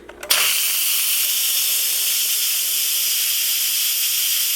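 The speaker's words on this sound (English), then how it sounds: "The steam is just going to pour out like that for a little while until all the pressure is released" An Instant Pot Nova 6-quart releases pressure through a quick release, a loud, steady steam hiss bursting on suddenly and continuing without a break, close by.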